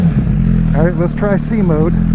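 A motorcycle engine idles steadily, close and loud, with brief revving swells underneath, while someone talks over it.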